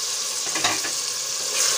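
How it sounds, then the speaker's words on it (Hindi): Ginger and garlic paste with a splash of water sizzling and frying in a pan for Sarson ka Saag, stirred with a few soft scraping strokes; steady close crackle throughout, no talking. "मिक्स करेंगे इसको और थोड़ा सा करेंगे इसको फ्राई।"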